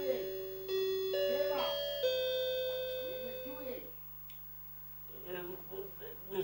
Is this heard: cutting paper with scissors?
no